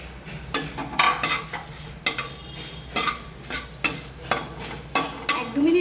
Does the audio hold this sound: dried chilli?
yes